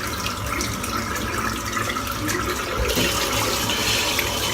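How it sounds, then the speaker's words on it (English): Tap water runs steadily while a shaving brush is rinsed under it, a continuous splashing wash of moderate loudness with no voices. "I'm just rinsing the brush out now"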